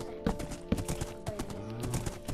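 Horse hooves in the Minecraft video game, clip-clopping in a few irregular, sharp knocks close up over a busy in-game background.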